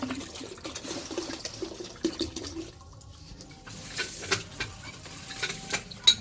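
Water is poured to fill a container, a faint, uneven trickle and splash with a few small knocks, fairly quiet and close.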